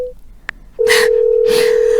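A telephone call that goes unanswered gives a steady, unbroken electronic tone that starts partway in and holds to the end, with a short blip before it and bursts of noise over it.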